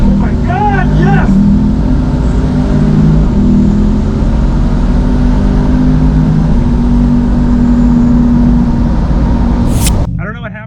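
A twin-turbo car on its first drag race run, a loud, steady engine roar that holds for about ten seconds and then drops away, heard up close with a brief excited shout near the start.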